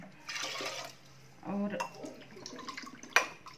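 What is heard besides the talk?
water poured from a glass into a pot for khichdi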